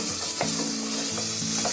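Fresh peas and chunks of potato for pav bhaji hiss and sizzle in hot oil as a spoon stirs them in a pan, a steady close-up frying sound with a few scraping strokes.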